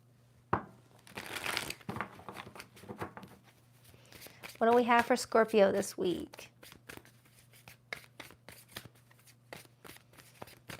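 A tarot card deck is shuffled close by in brief riffling bursts, with a longer shuffle in the middle, while someone talks over and between the shuffles.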